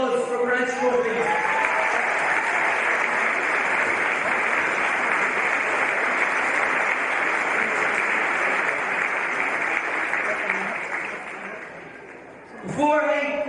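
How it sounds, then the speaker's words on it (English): Sustained applause from a crowd honoring the Crenchico team at a Gaelic football junior championship final presentation, loud and steady for about ten seconds before fading out, with a brief voice at the start and end. "could we get a round of applause for Crenchico, please?"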